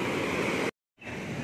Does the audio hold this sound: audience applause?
no